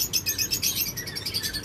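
Lovebirds at a bird market chirp in rapid, bright, repeated tweets, close and moderately loud, with a short burst of overlapping calls and no talking.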